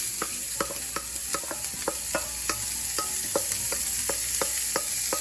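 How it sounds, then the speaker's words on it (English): Onions sauté in a pan under a constant sizzle while a utensil scrapes and stirs them in quick, regular strokes, a couple per second, close and clear. "This is called sauteing or caramelizing vegetables."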